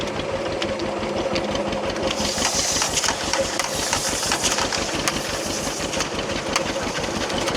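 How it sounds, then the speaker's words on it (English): A John Deere B tractor engine being cranked over, a fast steady chugging pulse that runs evenly and loud throughout with no voices over it. "Now we're turning the engine over."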